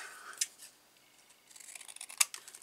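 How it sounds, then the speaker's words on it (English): Scissors snip through paper card stock in a few quiet, crisp cuts, close by, with short gaps between snips and no talking. "grabbing my scissors"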